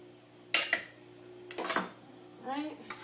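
Spoon stirring ingredients into a homemade herbal shampoo bar mixture in a bowl, giving a few sharp clinks and scrapes at close range, with a brief voice-like sound near the end.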